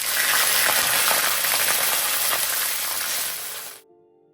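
Mustard seeds splutter and crackle in hot oil as a dense, loud, steady sizzle that holds for several seconds and then cuts off abruptly.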